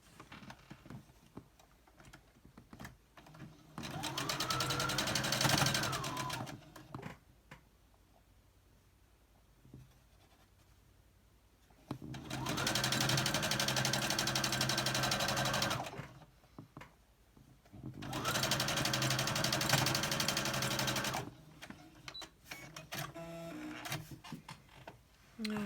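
A sewing machine stitches a scant seam joining white quilt blocks, running in three sustained bursts of steady mechanical whirring separated by quieter pauses with small handling clicks.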